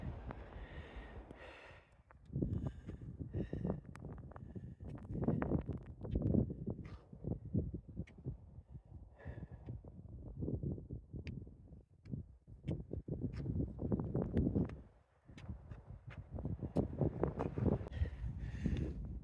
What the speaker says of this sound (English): A little bit cold with that wind.